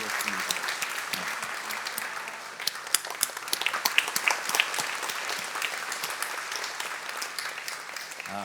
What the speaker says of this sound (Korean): 여러분 격려의 박수 크게 하시겠습니다